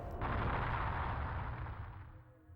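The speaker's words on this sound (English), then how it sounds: "I'm switching to the photon launcher so that way I can have some semblance of an attack range" A photon launcher fires in Phantasy Star Online Episode II, giving one loud, sustained booming blast that decays slowly over a couple of seconds.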